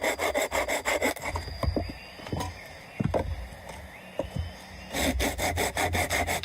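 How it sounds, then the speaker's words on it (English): A fallen log is crosscut with a hand saw in the wild, heard as quick rhythmic rasping strokes close up, pausing midway for a few knocks and scrapes before the strokes resume. "He crosscuts a fallen log to build up a stockpile of heavy fuel."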